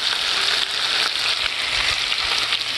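Garlic lemon chicken crisping in a pan gives off a loud, dense, continuous sizzle, close and steady throughout with no voices.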